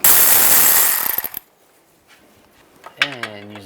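A socket wrench on a long extension works the engine mount bolts of a 2010-2017 Chevrolet Equinox, giving a loud rasping burst of ratcheting and metal clatter that fades into scattered clicks, followed by a brief voice.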